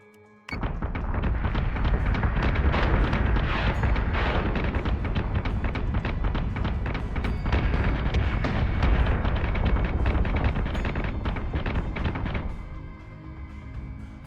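Missile salvos launched at a target in the space combat game Battlestar Galactica Deadlock: a dense, continuous barrage of booming blasts and rumbling impacts that stays loud for about twelve seconds, then drops to a lower rumble.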